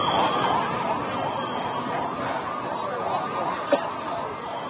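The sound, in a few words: ambulance sirens at the Air India plane crash site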